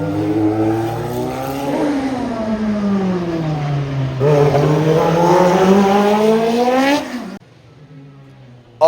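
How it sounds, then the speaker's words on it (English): Formula 1 race cars at the Adelaide Motorsport Festival scream past up close, engine pitch sweeping up and down through gear changes in two loud runs before the sound drops away abruptly near the end. "I think you guys want to see some F1 cars."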